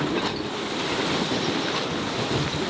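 Wind roars and waves wash steadily around a sailboat under way at sea, a loud continuous rush with microphone buffeting and no talking.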